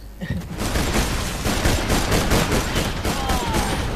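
Dense, loud rapid gunfire from the video game Borderlands 2, a sustained fusillade of fast repeating shots that fills the whole stretch with little pause.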